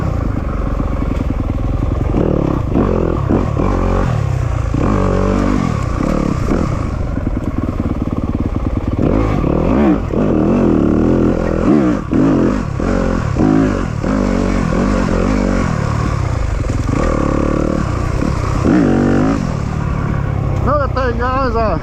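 A motorcycle laps a dirt race track, its engine revving hard and dropping back in repeated surges with some clatter, loud and close, while a rider's voice talks over much of it.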